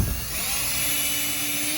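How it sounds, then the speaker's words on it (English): A power drill bores a pilot hole into a wooden shed door, a loud, steady high-pitched whine that holds close and continuous for the whole stretch after a brief rough start, with no voices. "we are going to go ahead and pre-drill so we don't crack our wood"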